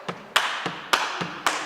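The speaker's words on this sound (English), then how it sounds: "you're going to see 350 people who don't know how to clap for a gospel spiritual clapping on 1 and 3" Sharp hand claps fall in an even, slow pulse on beats one and three of a gospel rhythm, six claps in under two seconds, close and distinct with soft low thumps between them and no voices.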